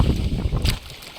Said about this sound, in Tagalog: marinig nyo naman sa ingay ng hangin